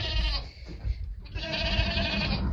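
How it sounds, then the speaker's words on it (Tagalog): Goats bleat loudly and close by on a farm at night, one long wavering cry followed by another drawn-out call, with no talking over them. "merong mga kambing dyan"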